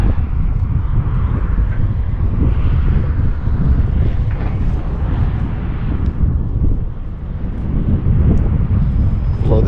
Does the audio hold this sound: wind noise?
yes